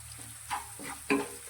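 Onion, ginger, garlic and green chillies sautéing in a pan for bajra khichdi, a quiet hiss broken by a few distinct stirring scrapes, close but soft, no talk.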